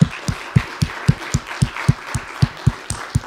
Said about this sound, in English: Could we go ahead and give these guys a round of applause?